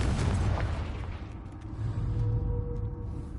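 A Confringo spell from the video game Hogwarts Legacy detonates as a loud, rumbling explosive boom that sustains and swells again, with no talking over it.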